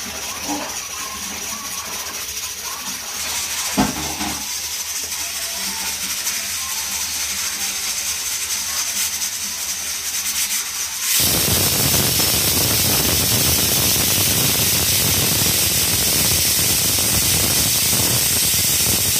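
Pressure cooker hissing steadily, then bursting into a loud, harsh rush of escaping steam and sputtering water that continues to the end.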